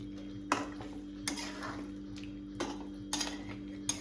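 Chicken coated in masala being stirred in a metal pot, with distinct scraping clinks from the spoon at irregular intervals over a low steady hum.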